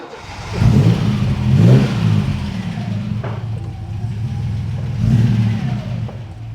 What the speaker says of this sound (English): A little bit tappy in it, the engine.